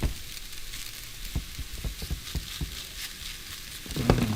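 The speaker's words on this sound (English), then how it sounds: "Listen to that sizzle." Food frying in a pan gives off a steady hiss, broken by a few sharper crackles and pops, with a louder burst near the end.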